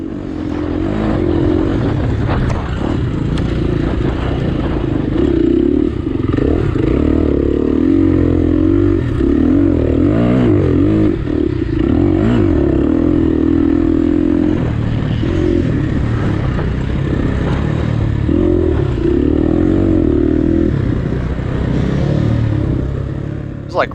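Dirt bike ripping through a sandy hare scramble race course, the engine loud and close with rising and falling revs, strong buzzing surges while climbing and clattering over bumps throughout.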